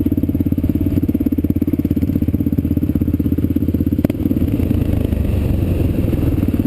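A Kawasaki KLR650 dual sport motorcycle engine thrums steadily and loudly up close with a rapid clattering pulse while riding along power lines, holding an even throttle throughout.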